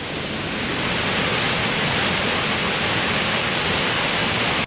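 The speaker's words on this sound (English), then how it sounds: "We're gonna get some water from the waterfall." A waterfall pours at close range near a river mouth with salmon, a loud steady roar of rushing water that runs unbroken until it cuts off abruptly at the end.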